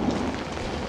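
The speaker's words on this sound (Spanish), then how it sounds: "Me puedo esconder aquí de la lluvia, ¿no?" Steady rain in the horror video game Outlast, a dense even hiss of falling water with a low rumbling undertone, constant and close throughout with no speech.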